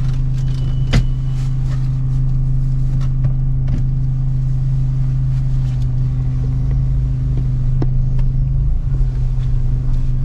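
A Ford Freestyle diesel car is driven, with a steady low engine drone and cabin rumble heard from inside, plus a few faint clicks and knocks, and no one speaking.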